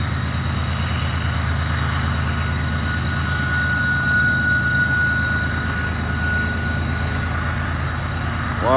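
A BNSF freight train pulling hard westbound up a hill on Horseshoe Curve, Pennsylvania, a loud steady diesel rumble with wheel and rail noise, a thin squeal and a faint whistle-like tone, with no voices.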